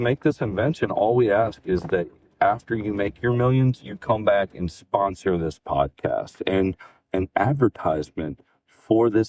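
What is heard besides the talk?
No everyday noises stand out.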